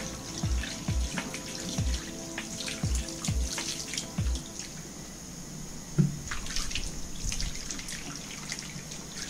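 Tap water runs steadily over the outside of a one-hand accumulator pressure sprayer filled with herbicide, washing off spilled liquid, with a few low knocks early on; close and alone, no talking.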